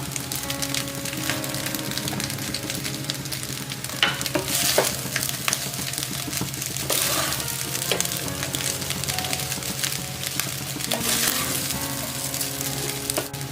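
Cabbage pepper rice with spring onions is stir-fried in a pan, a steady close sizzle with constant scraping and tossing of the spatula throughout.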